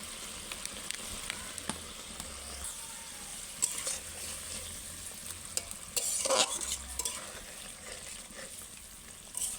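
Doi katla, a Bengali fish curry in yogurt gravy, is stirred in a pan with coriander leaves added. A spoon scrapes and taps softly over a faint, steady sizzle, with a brief busier stretch midway.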